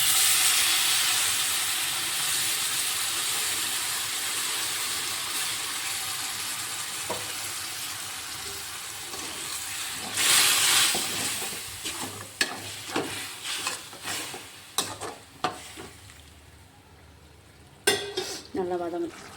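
Bitter gourd with tamarind water sautés in a pan, with a steady sizzle and hiss that gives way to repeated clinks and scrapes of stirring toward the end.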